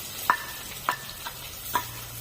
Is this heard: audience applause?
no